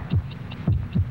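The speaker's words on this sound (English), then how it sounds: "72 heartbeats." Heartbeat sound effect from a vintage Bufferin commercial, a soft low thump-thump repeating in a steady rhythm, close and muffled, with no voices.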